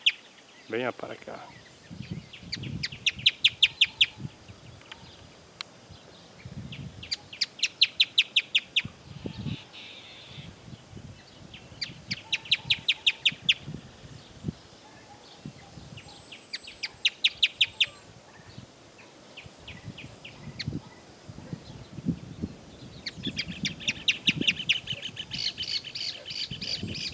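A rufous hornero repeats loud, rapid trilling bursts at intervals, with other birds calling around it and a voice speaking at times.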